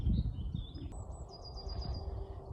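Birds chirp and trill in a Hertfordshire bluebell wood near the M25, with a few clear, fairly close high calls over a constant low rumble of distant traffic.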